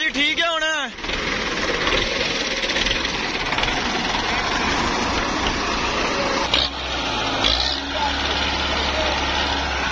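A tractor engine runs steadily after a fuel pump repair, a continuous loud rumble with a brief voice at the start and a small shift in tone near the end.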